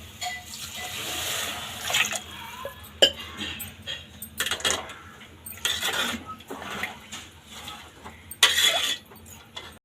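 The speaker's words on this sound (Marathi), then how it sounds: "ह्यामध्ये आता आपण पाणी टाकू" Water is poured into a pot of khichdi rice mixture, giving intermittent splashing bursts with occasional clanks of the pot, each short and fairly close.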